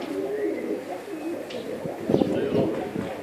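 Iraqi Azraq pigeons cooing nearby, soft repeated throaty coos over a low background, with a voice speaking partly over them.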